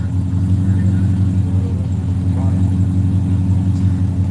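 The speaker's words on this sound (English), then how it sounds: "This is that Hellcat that I was telling you about earlier that's gone 200 on a stock engine and a stock blower" Stock-engine, stock-blower Dodge Hellcat at the Texas Mile speed event: a steady, loud, low engine rumble runs throughout, idling or holding a constant note at close range with no sharp revving.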